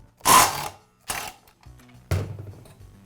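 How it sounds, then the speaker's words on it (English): Impact driver with a socket on the blade bolt of a Milwaukee metal-cutting saw, firing in three loud separate bursts of rattling hammering with short pauses between them, no voices. "the impact will quickly remove it"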